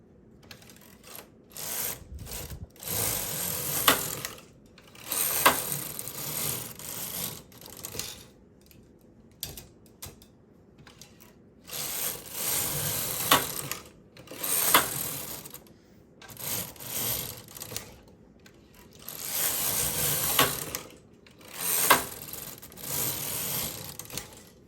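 A knitting machine knits the rows of a fingerless mitten on tension 10, its carriage whirring and clattering in repeated passes of a few seconds each, separated by short pauses, close and fairly loud, with no talking.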